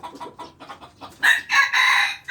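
A Thai fighting game cock makes a run of short, close clucks, then breaks into several louder, drawn-out harsh calls, with no one talking.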